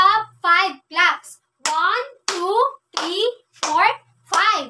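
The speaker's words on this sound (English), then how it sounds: "So let's clap 5 claps." A classroom of children claps five times during a math lesson, their young voices chanting along in short, evenly spaced bursts that mostly mask the claps.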